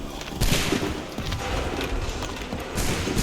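Musket volley fire in Assassin's Creed 3, several sharp overlapping cracks of gunfire near the start and end of the clip, with rumbling battle noise in between.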